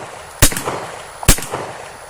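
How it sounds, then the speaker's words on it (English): Two loud, close shots from a .45 ACP firearm fired downrange, a little under a second apart, each a sharp crack followed by a short echoing tail. "send a couple of rounds of this 45 ACP downrange"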